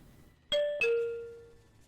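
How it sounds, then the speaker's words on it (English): A two-tone ding-dong doorbell in a video game sounds once: a bright higher chime followed by a lower one that rings out and fades, alone against a quiet background. "That is an interesting doorbell."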